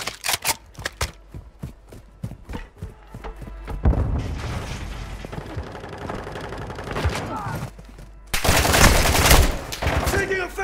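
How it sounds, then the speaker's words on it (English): Rapid gunfire in Call of Duty Warzone DMZ mode, with sharp separate shots first, then a dense continuous stretch of fire and louder bursts at the end, with voices heard faintly under it. "Taking effective fire!"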